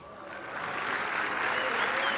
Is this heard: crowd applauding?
yes